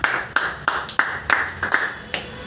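A small audience at a Sr Nagar CEO meeting claps in a loose, sparse rhythm, about eight distinct sharp hand claps spread over a couple of seconds, fairly close and unaccompanied by talk.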